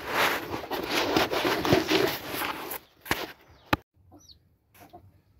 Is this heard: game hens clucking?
yes